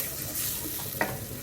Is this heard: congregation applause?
no